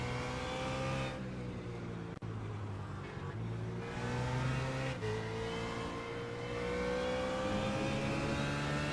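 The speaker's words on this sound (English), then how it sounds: "you can hear him use the throttle just a little bit as he's braking" Race car at the 6 Hours of COTA endurance race, its engine note dipping and rising as the throttle is blipped under braking, with a steady whining drone continuing throughout.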